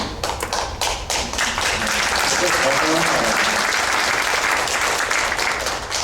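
Student audience at a lecture on industrial energy policy bursting into applause, which swells within the first two seconds into a dense, steady wash of clapping that holds at full strength, with some voices mixed in.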